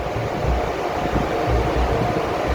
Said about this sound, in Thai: ดู เสียงพัดลมนะครับพี่น้องไม่ใช่เสียงทะเลนะครับ